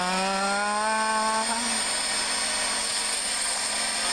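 A whirring vacuum power in the video game Paper Mario Sticker Star, a steady loud mechanical drone with a tone sliding down over the first second and a half, then holding alone without talk.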